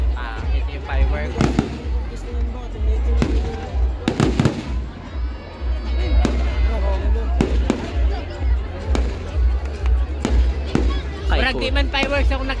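Fireworks burst at night, a string of sharp cracks and booms coming in irregular volleys, with people chattering and cheering close by.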